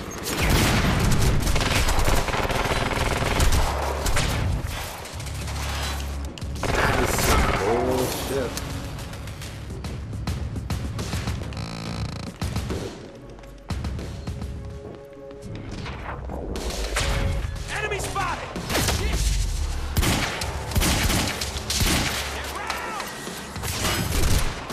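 Bursts of gunfire from the shooter game Quantum Break crackle throughout, rapid volleys and single heavy shots mixed with booms and mechanical clatter, loud and near, with a player talking over the action.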